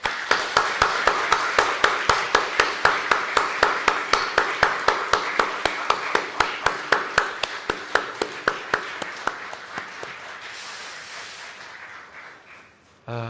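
A church congregation at a Christmas Day service claps in steady unison, with sharp, evenly spaced claps over about ten seconds. The claps then loosen and fade out.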